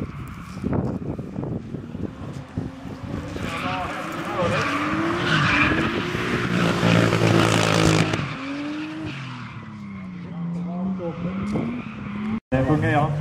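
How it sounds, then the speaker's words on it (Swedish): Drift car sliding around a track at Bivaröd, tyres squealing in long wavering howls over a revving engine, loud and sustained through the middle then easing off, with a voice talking over it. "Då har vi en bil ute på banan."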